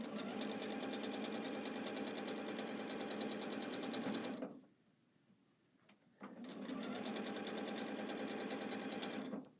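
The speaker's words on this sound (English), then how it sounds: "Now I'm ready to sew." A domestic sewing machine stitches a quilt block with a 1/4 inch foot, a steady close mechanical whir that stops for about two seconds midway and then resumes.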